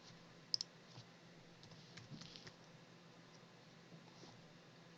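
Faint, sharp computer mouse clicks, a quick pair early on and a single one at the end, sound in a quiet room over a low, steady background hiss.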